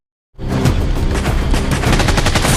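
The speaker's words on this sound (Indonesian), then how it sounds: "Adu tembakan pun pecah" Rapid bursts of gunfire crackle without pause after a brief silence, dense overlapping shots and booms suggesting a loud, close exchange.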